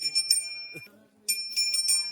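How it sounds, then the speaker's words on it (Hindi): A bell is rung by hand in a Rajasthan village. Bright metallic ringing comes in a short burst, stops briefly, then resumes with several quick strikes close by, with a faint voice in the background. "इसी की घंटी बजाओ।"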